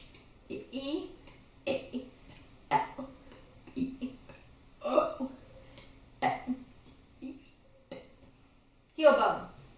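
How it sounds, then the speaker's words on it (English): A person burps out individual letters to spell words, a string of short, guttural belches spaced about a second apart, fairly quiet and close, with occasional cough-like bursts and no separate talk. "you burp every letter to spell the whole word"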